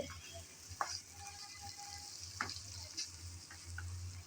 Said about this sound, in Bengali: নেড়ে চেড়ে ভালোভাবে আলু টমেটোর সাথে কষিয়ে নেওয়া হচ্ছে।